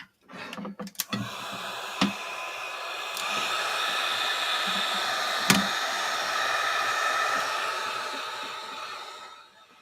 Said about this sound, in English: I'm going to put the hairdryer on now